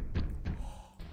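Two dull knocks in quick succession inside a horror video game, a warning of an approaching enemy attack, heard close and fairly loud against a quiet background.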